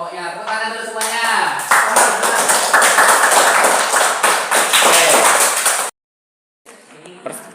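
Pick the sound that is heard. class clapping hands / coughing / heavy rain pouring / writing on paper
class clapping hands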